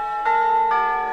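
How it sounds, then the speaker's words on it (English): Big Ben clock tower bell chimes in loud, clear, sustained tones, with two rich strikes ringing out and a third beginning at the end, alone without talk. "its bell chimes once an hour"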